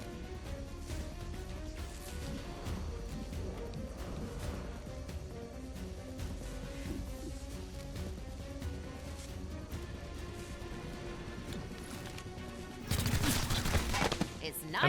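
Gunfire in the tactical game XCOM: Chimera Squad, sharp shots ringing out over a steady musical backdrop for the whole stretch, ending in a louder, denser burst near the close.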